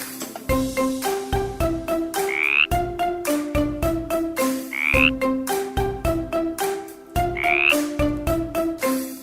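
Repeated croaking calls, like a frog, close and loud, in steady rhythmic bursts over a plucked musical accompaniment with a tonal melody in a children's song.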